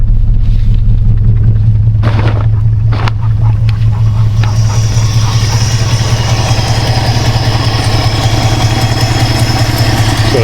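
A Holden Commodore VT with a 304 V8 idles loudly and close by, a steady deep rumble with a throbbing low hum that runs unbroken, with a few clanks and hisses early on.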